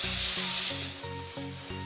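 Two onions sizzle steadily in a hot pan for a Tamil-style lady's finger kara kulambu, the broad frying hiss carrying a few scraping stirs and no talk over it.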